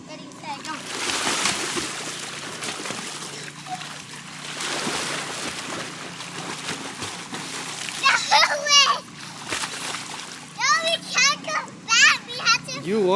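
Swimming-pool water splashing and sloshing as people swim, with children's voices and chatter throughout and several high excited calls toward the end over steady splashy background noise.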